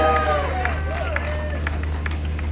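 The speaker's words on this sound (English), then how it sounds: "Go on, that deserves a louder cheer." A crowd at an outdoor anti-monarchy protest cheers and claps, with voices calling out over a steady low hum and scattered clapping.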